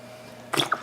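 A rinsed-out dish soap bottle squirts water onto potted plants: one short wet spurt followed by a quick second squish, close and fairly quiet, with no one talking.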